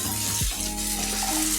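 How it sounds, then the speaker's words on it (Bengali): A single egg sizzles in hot oil seasoned with half a spoon of chili powder and garlic while tempering dal, a brief steady frying hiss with a short splash, no voices. "নরম নরম ভাজা ভাজা ডিমটা, যেন বেশি ভাজা না হয়ে যায়।"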